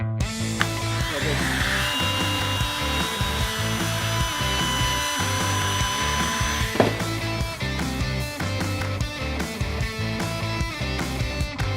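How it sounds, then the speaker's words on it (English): A router cuts a wooden board for a carabiner gear rack, giving a steady, continuous machine whine with rough woody grinding that holds for the whole stretch over a rhythmic musical backing. "for this part, we're gonna use the router."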